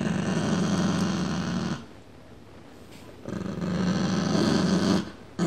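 A Shiba Inu growls while guarding its toy, a low, rough, throaty rumble held for nearly two seconds, a short pause, then a second sustained growl, close and fairly loud with no talking.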